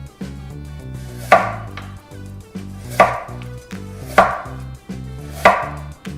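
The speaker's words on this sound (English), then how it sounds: "Slice the carrots." A kitchen knife slices carrots on a cutting board, four crisp, evenly spaced chops landing about every second and a half, close and clear with no talking.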